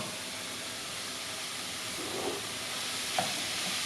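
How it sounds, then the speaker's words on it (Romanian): Minced pork frying in a pan with carrot, a soft continuous sizzle with a couple of brief stirring clinks near the end, quiet and without voices. "Apoi punem carne."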